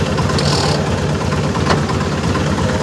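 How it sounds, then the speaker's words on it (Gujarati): A tractor engine runs steadily after backing up on a farm field, a continuous low rumbling idle with mechanical vibration, close and loud throughout with no talking. "ઓલે રિવર્સ લઈને ટ્રેક્ટરને ચાલુ કરી વાળ્યું છે"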